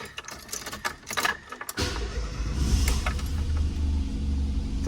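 Keys jangle and rattle briefly, then a Ford Fiesta Mk3 engine catches and settles into a low, rough, rumbling idle close by.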